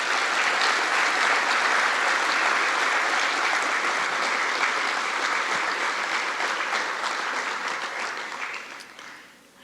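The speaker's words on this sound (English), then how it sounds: "please join me in giving him a round of applause" Audience applauding at a 9/11 remembrance ceremony, steady dense clapping for several seconds that gradually fades and ends abruptly.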